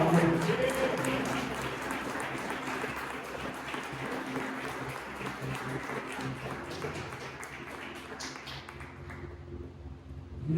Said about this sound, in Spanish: Wow, dale un aplauso a él,